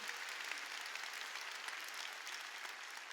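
A church congregation at a Sunday worship service applauds steadily and loudly throughout, a dense wash of clapping hands with no break and no speech.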